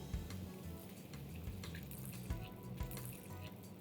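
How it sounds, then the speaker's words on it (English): Water pours into a pot of Malabar vegetable curry, a steady splashing stream with low thumps of the pot in the kitchen, fairly quiet and without talk. "Let's move on to adding water."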